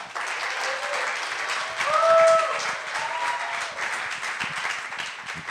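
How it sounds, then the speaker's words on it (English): A crowd claps for a performer at a live talk event, a steady round of applause that swells briefly in the middle, with a few whistles or cheers rising above the clapping. "a big round of applause for Kira"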